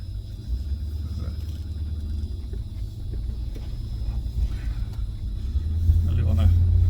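A 1991 Range Rover Classic engine rumbles steadily from inside the cabin while driving a rural gravel road in Alberta, a deep continuous drone growing slightly louder toward the end.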